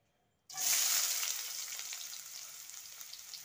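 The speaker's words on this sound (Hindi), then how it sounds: "अब मैं डालूंगी प्याज" Chopped onions dropped into hot oil in a kadai for gobi manchurian gravy, bursting into a loud sizzle after a short silence and then settling into a steady, close frying hiss with no talk.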